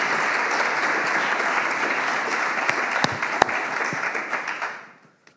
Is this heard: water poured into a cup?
no